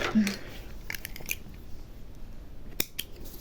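Sharp scissors snip through embroidery thread in a quiet room, giving a few brief, crisp clicks: one near the start, a couple more in the middle and a clear snip toward the end.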